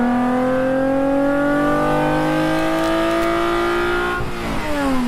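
A Toyota 2GR V6 engine revs up in one long, loud, steady climb with a rising buzzing drone, then eases briefly near the end.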